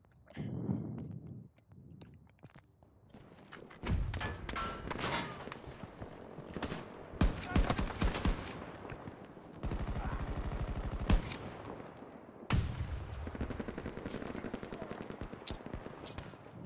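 Gunfire in the video game Battlefield 2042 during a Conquest match on the Orbital map, with loud repeated shots and rapid bursts, plus explosions and battle noise throughout.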